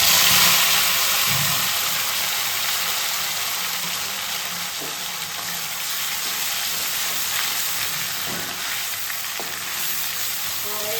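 Boiled onion paste fries in hot oil with bay leaves, dried red chillies and whole peppercorns for a katla fish rezala, giving a loud, continuous sizzle broken by occasional stirring scrapes.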